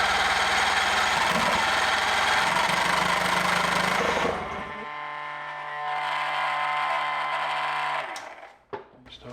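An outboard motor being started and run on a boat, a loud steady buzzing drone that drops in pitch and level partway through, then settles into a lower hum before sputtering near the end.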